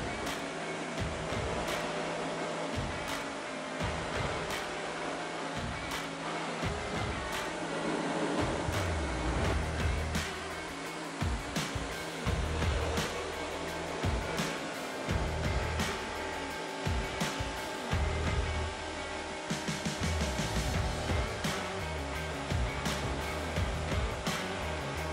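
Pressure-washer water spray rinsing a car's wheel well, a steady loud hiss running throughout with the pitch and intensity shifting as the jet moves across the surfaces, no voices heard.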